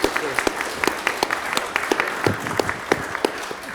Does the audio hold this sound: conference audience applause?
yes